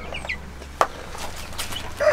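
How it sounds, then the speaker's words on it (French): Faverolles hens in an old farmyard henhouse give soft, scattered clucks, with one sharper call and a brief higher note near the end, over a low steady hum of background noise. "on a les poules Favrolles."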